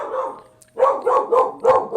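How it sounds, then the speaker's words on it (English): Dog barking indoors, a run of about four sharp barks close by after a brief quieter stretch, with no speech. "And I've got a dog barking."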